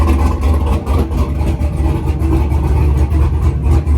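A Dodge truck engine revs loudly up close, a deep continuous rumble that swells and surges steadily for several seconds.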